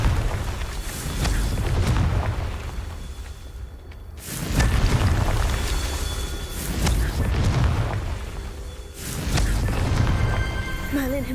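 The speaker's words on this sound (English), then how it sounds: "Confringo." Repeated booming blasts of the Confringo explosion spell in Hogwarts Legacy, deep rumbling bursts recurring every few seconds over continuous game ambience, loud and close.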